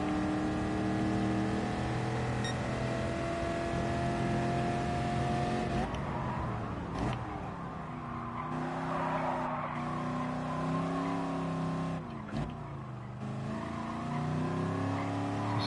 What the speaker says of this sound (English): It is a Camaro. So an all-American, old-school muscle car, basically.